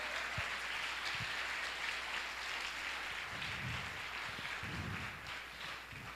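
Church congregation clapping together during a service, a dense continuous patter of many hands that stays fairly steady, heard from amid the crowd and easing slightly toward the end.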